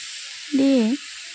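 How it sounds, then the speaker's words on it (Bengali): Spices sizzle in hot oil while being stirred, a steady close hiss throughout, with a short hummed voice rising over it near the middle. "তো মশলাগুলো দিয়ে একটু নেড়ে চেড়ে কিছু সময় হতে দেবো।"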